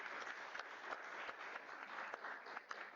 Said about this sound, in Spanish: También les pido un caluroso aplauso